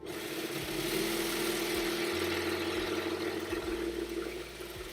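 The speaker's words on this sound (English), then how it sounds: "So I'm going to just quickly overlock it." An overlocker sewing machine runs steadily as it finishes a fabric edge, a close, even motor hum with small speed changes and no talk over it.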